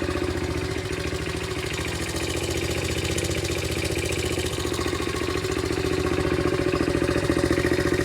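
A 1982 Honda XL80S motorcycle engine idles steadily up close, a fast even putter holding a constant level throughout with no voices.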